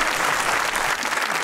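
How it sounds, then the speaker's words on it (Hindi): Brief burst of dense studio audience applause on a comedy show, loud and steady from start to finish. "तालियां।"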